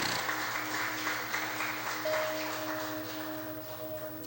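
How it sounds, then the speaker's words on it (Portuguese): A church congregation claps during a service, a dense rolling patter that stays fairly even and softens slightly toward the end, with a steady tone ringing underneath. "pode aplaudir o Senhor"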